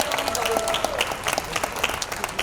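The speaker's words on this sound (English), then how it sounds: "A big round of applause." Audience applause welcoming a makeup artist at a makeup show launch, many hands clapping in a steady, moderately loud patter with a few sharper individual claps standing out, no speech over it.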